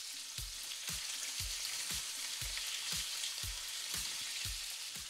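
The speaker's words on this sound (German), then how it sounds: "Die tun wir auch nicht wirklich lange jetzt anbraten." Prawns sear loudly in a hot frying pan with a constant close crackling sizzle, broken by regular soft scraping and stirring strokes roughly every half second; no one speaks.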